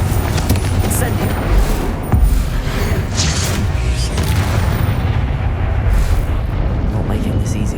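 Fiery Incendio spell blasts in the video game Hogwarts Legacy rumble and boom amid dense, continuous combat noise, with one heavier blast standing out partway through.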